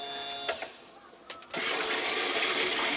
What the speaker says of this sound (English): That's a pumping water with a lot of bubbles for the moment.